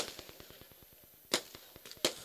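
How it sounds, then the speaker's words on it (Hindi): Firecrackers go off at a day-night cricket tournament in Nimbavli, with two sharp, loud bangs standing out over a rapid, steady crackle that runs through the whole stretch. "इस बार बात करेंगे तो फटाके की आतिशबाजी"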